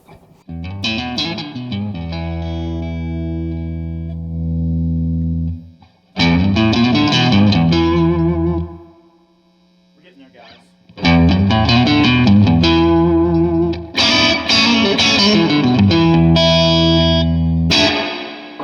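Distorted electric guitar played through an overdriven Andrews Amp Lab AC-25 tube amp, loud chords and riffs in several bursts separated by brief pauses.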